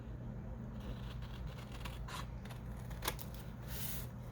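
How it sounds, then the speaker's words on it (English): Scissors cut paper for a junk journal, making faint snips and crisp slicing noises in a few short strokes over a steady low hum. "I'm going to cut it right along here."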